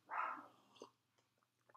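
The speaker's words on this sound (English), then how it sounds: "I apologize if you can hear my dog in the background." A pet dog barks once, fairly close, in a quiet indoor room, followed by a few softer yips and small sounds.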